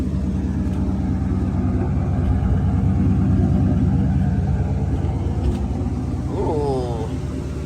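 A car engine idles steadily and loud after repairs to a bad gas leak, a continuous low rumble with a brief rising whine near the end, voices talking over it.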